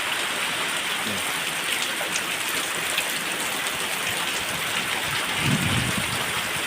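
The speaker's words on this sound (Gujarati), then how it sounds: "શિયાળામાં ચોમાસું જોવા દઉં તો ખતરનાક વરસાદ પડ્યો છે" Constant heavy rain pouring down in winter in Gujarat, a dense even hiss of drops hitting surfaces nearby, with no voices.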